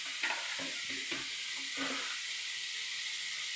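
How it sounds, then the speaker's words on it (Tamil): Vegetables for fried rice sauté in a hot pan with a soft, steady sizzle and a few quick stirring knocks early on, fairly quiet and with no one talking. "அதுக்கப்புறம் அது எல்லாத்தையும் அப்படியே நல்லா வதக்கணும்"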